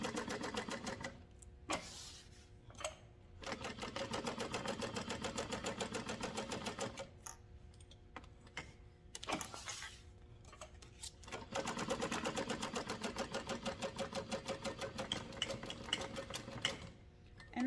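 A sewing machine top stitches a tote bag in quiet runs of rapid, even stitching, with several short pauses between bursts.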